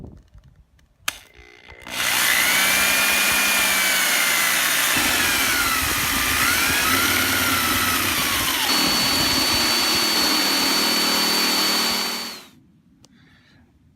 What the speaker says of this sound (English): I'll have to do a series of increasingly larger holes, starting with a very small bit and working my way up